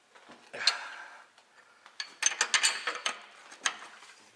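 Wrenches work a bolt on the left rear strut of a 2004 Ford Explorer 4x4, giving a quiet run of metallic clicks and ratcheting taps that cluster into several sharper clanks in the middle, with no talk.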